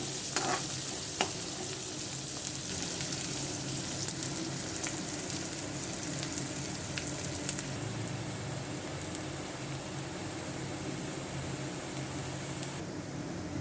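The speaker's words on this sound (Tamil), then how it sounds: "ஸ்லோலே தான் வச்சு வதக்கணும் வெங்காயமும் பூண்டையும்" Onion and garlic slowly sautéing in a pan for Andhra kara chutney, a soft, steady sizzle with occasional scrapes and clicks of stirring, no talking.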